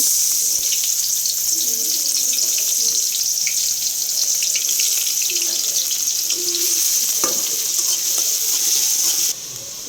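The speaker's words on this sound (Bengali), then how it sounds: "এই যে আমার তেলটা গরম হয়ে গেছে, এখন আমি যে পেস্টটা দিয়ে দেব।" Bengali spice paste frying in hot oil for a potato and fish dish makes a loud, dense, hissing sizzle that holds steady for about nine seconds before dropping slightly, with faint speech underneath.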